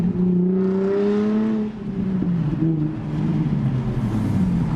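Nissan 350Z with blast pipes being driven with a manual transmission, a raspy exhaust drone that climbs in pitch, dips as a gear change comes, then settles back into a steady cruising tone, heard from inside the car.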